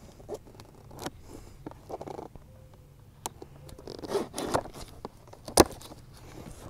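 Packaging for an outboard motor meant for an Intex raft is opened close up, giving scattered crinkles, scrapes, taps and rustles with short quiet gaps between them.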